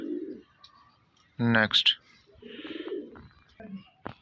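Punjabi pigeons give a few short coos, close and moderately loud, broken by brief bursts of louder calling and a voice speaking briefly.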